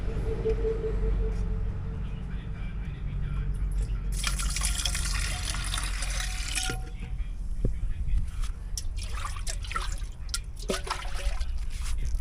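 Water is poured into a mixture containing an energy drink and seasoning powder, a faint trickle and splash under steady background noise, ending with scattered drips and light handling clatter.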